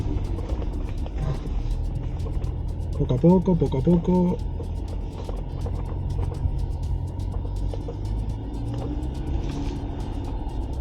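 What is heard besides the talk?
Jeep Wrangler Rubicon 2.0 turbo engine climbing a slope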